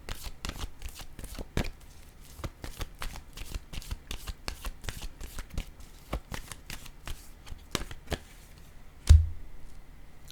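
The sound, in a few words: shuffling and drawing tarot cards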